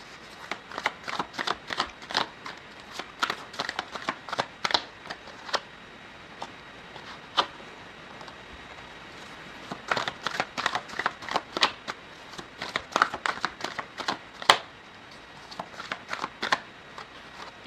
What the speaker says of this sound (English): while I was shuffling the cards